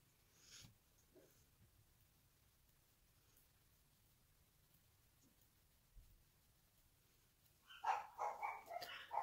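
Indoor dogs give a quick run of close barks near the end, after mostly quiet stretches with faint snorts and shuffles.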